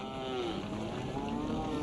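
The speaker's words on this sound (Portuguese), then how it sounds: "A manada foge em pânico" A panicked herd of cattle flees together, a continuous rumbling mass of hooves and lowing with broad noise throughout, loud and close with no pauses.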